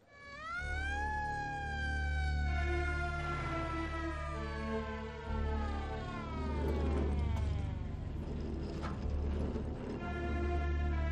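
An ambulance siren wails continuously, rising and falling in long sweeping tones over a steady low rumble, loud and close throughout, in a Gumby animated scene.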